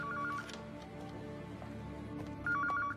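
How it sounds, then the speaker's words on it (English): A telephone rings in short electronic bursts at the start and again at the end, with quiet room noise between the rings. "Is that a phone ringing?"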